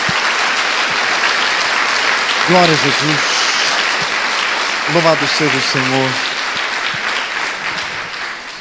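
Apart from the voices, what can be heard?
congregation applauding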